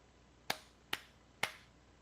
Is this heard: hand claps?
yes